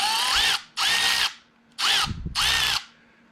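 An air ratchet runs loud and close in four short whirring bursts, each lasting about half a second, separated by brief pauses.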